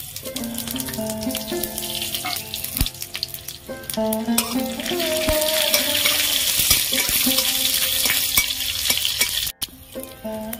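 Panch phoron, bay leaf and dried red chillies sizzle and crackle in hot oil for dal in a kitchen, a steady close frying hiss with stirring clinks and a few sharp utensil taps, no talk.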